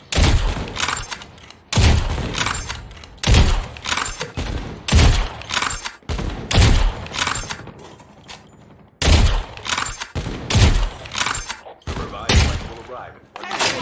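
Bursts of vehicle-mounted gunfire rattle again and again in Call of Duty Mobile battle royale, loud repeated volleys with short pauses between them, and a voice talks over parts of the action.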